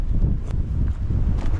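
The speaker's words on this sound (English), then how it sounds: "hopefully these trees will drown out the wind a little bit" Wind gusting through trees in a forest near the coast, a steady loud low rumble of buffeting air across the whole stretch, with no voices.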